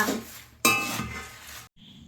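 Shelled peanuts being stirred in a pan over a wood-fire stove: a scraping rustle, then a sharp metallic clink as the utensil strikes the pan, followed by gritty shuffling of nuts before an abrupt stop, close and clear.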